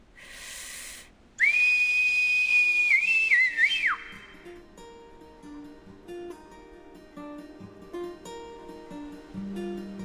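A long, clear whistle rings out loudly for a few seconds, wavering at the end, then fades into quiet plucked music.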